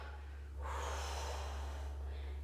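A single long inhale drawn through the nose during a yoga stretch, a steady airy rush lasting about two seconds over a constant low hum, close and fairly loud.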